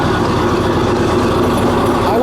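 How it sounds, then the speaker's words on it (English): A Caterpillar diesel engine runs aboard a 68-foot commercial fishing boat, a loud, steady low rumble and drone filling the space without a break from start to finish. "that is one honking engine"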